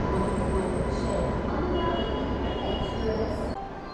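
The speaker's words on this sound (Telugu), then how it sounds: "మొత్తానికి మన ట్రైన్ వచ్చేసిందండి" The Bengaluru to Hubballi Jan Shatabdi Express arrives at a platform: a loud, continuous rumble of rolling carriages, with thin wheel squeals rising above it toward the end.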